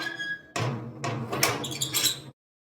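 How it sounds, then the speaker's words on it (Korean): A metal locker door forced open: a sharp scraping jolt followed by a run of squeaky, grinding creaks and clanks, close and fairly loud, ending abruptly in silence. "억지로 힘을 주어 문을 열자"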